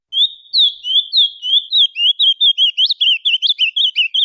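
A chestnut-bellied seed finch (curió, selo prata song type) sings a clear, loud, close run of rapid whistled phrases, starting with slurred notes and quickening into a bright, repeated chirping sequence with no other sounds.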